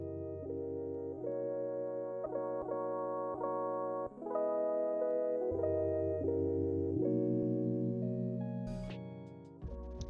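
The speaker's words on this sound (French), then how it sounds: "Si vous tendez l'oreille, vous pouvez entendre une musique en fond de notre jeu." Background music from the video game Touien, a steady melodic tune with sustained chords and a clear bass line, changing chords every second or so, played alone at moderate loudness with a brief bright flourish near the end.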